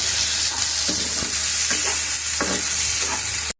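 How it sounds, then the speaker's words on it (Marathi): Spices with cardamom and cashews being sautéed in a pan for paneer butter masala, a steady loud sizzle throughout with a few scraping stirs of a spoon, close up and with no voices. "एक विलायची, छान मॅश होईपर्यंत आपल्याला परतून घ्यायचं"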